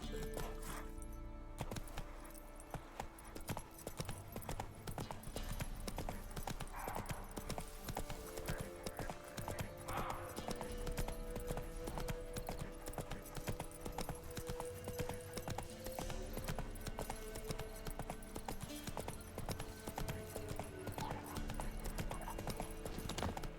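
Roach, Geralt's horse in The Witcher 3, gallops continuously with a fast, even hoof rhythm over a steady game soundscape for the whole stretch.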